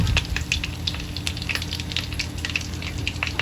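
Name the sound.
crispy pata pork leg frying in oil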